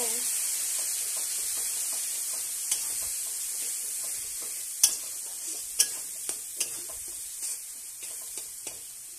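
Coriander, cumin and Kashmiri chilli powder frying in a pan, a soft steady sizzle under a string of faint ticking spatula taps that grow more frequent toward the end.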